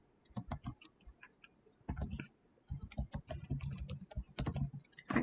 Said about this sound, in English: make sure I'm typing this correctly